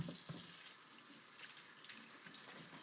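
Hot water running from a tap into a sink while a bowl is washed with soap and a sponge, a soft steady hiss and splash with faint clinks, fairly quiet and alone.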